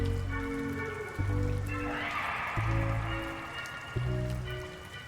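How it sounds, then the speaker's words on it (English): Steady rain falls outside a gas station at night, a continuous hiss with gusts of wind swelling in the middle, set under a low tonal drone with periodic soft thuds. "The rain and wind outside grew stronger."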